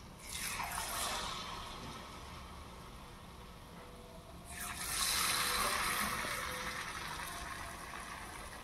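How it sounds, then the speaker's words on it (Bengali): Small palm fruit fritters (taler bara) frying in hot oil in a wok, a steady sizzle and crackle that swells loudly when more batter goes in midway, with no voices. "কড়াইয়ে তেল গরম করে নিলাম। এইভাবে ছোটো করে দিয়ে দিলাম তালের গুলগুলি।"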